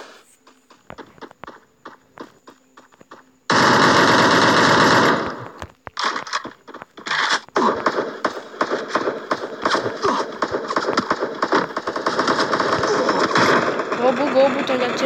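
Rapid machine-gun bursts and gunshots ring out in the Free Fire video game, loud and close, with a long sustained volley followed by choppy intermittent fire, footstep-like thuds and speech mixed in.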